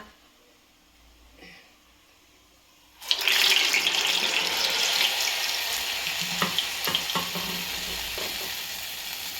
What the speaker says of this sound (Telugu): ఆయిల్ వేడి కాగానే వడ వేసేద్దాం